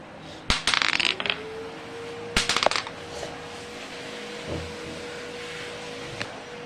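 Small gonggi playing pieces handled and dropped, two quick bursts of clattering hard pieces hitting a surface, followed by a lingering ringing tone and a few faint taps.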